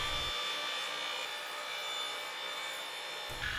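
A jigsaw cuts small tabs in wood with a continuous, steady buzzing rasp that fills nearly the whole stretch and stops briefly near the end.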